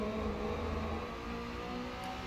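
Steady, deep mechanical engine drone of a car in the racing game Assetto Corsa EVO, sustained and fairly loud with a slight dip and swell in pitch, no voices.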